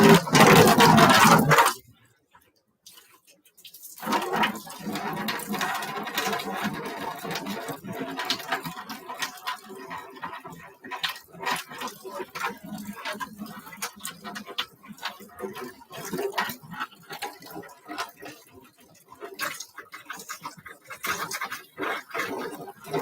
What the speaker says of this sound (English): it's pretty loud going into the bucket, but we've got the automatic overflow going